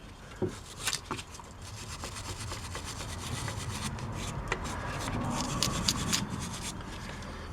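A brake caliper mount on a 2014 Chevy Silverado is rubbed to clear dust, producing close scratchy scrubbing strokes with a few sharper knocks, steady throughout without talk.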